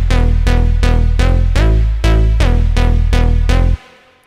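A synthesizer patch built in NI Massive or Sylenth with chorus and reverb plays a loud run of eight punchy, harmonically rich notes in even rhythm, ending with a short reverb tail.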